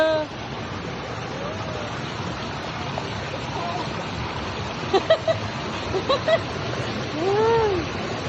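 River water runs steadily beside a riverside spot in Dumaguete, a continuous broadband wash with a few small splashes, while voices talk intermittently over it.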